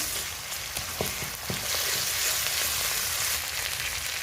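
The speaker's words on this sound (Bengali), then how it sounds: "পেঁয়াজ একটু ভেজে নিয়েছি এখন দিয়ে দেবো আদা রসুন বাটা" Chopped onions sizzling in hot oil as ginger-garlic paste goes in, for a country chicken curry; a loud, continuous close frying hiss with a few stirring knocks at the start.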